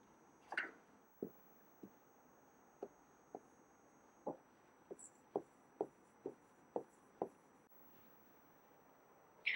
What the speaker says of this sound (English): I'll write cornea here.